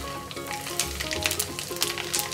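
Whole coriander, cumin and mustard seeds crackle in hot oil for a tempering, with dense close sizzling and sharp bursts of popping over a short stretch. No one speaks.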